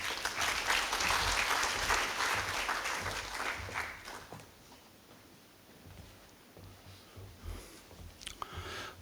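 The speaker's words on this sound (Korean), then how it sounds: "큰 박수로 맞이하여 주시기 바랍니다" Enthusiastic applause from residents at a Korean apartment reconstruction briefing fills the first few seconds, then thins to scattered claps and fades to quiet.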